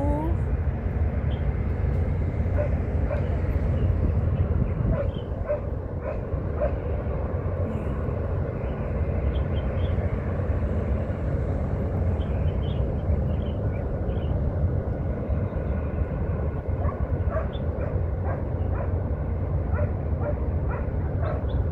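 Repeated dog barks ring out at intervals in a waterfront park at Wan Chai Promenade, Hong Kong, over a steady low rumble of background noise, some barks closer, others more distant.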